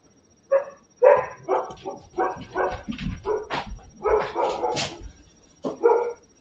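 Dogs barking and yipping in a game setting, a run of short, loud, uneven barks close by with brief pauses between bursts.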